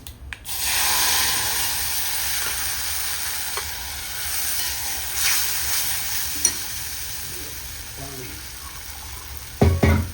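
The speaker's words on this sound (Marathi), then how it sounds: "बघा, आता पीठ घालते." Flour being stirred into pithle in a hot pan for a bhakri meal, giving a steady frying sizzle and scraping stir throughout, with a few sharper clatters near the end.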